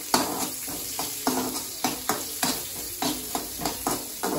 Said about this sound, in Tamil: நல்லா பொரிஞ்சதுக்கப்புறம் வெங்காயத்தை போடுங்க